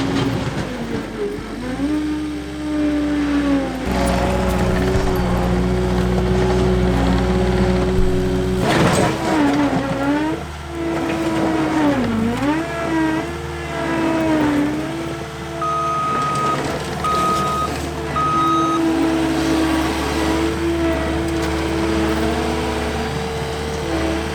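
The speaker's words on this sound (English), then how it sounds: "I have about a day and a half to do as much as I can with the skid steer." A skid steer loader engine drones steadily while clearing and grading soil, with a continuous heavy rumble that shifts pitch as the machine works and brief revs, close and loud throughout without talk.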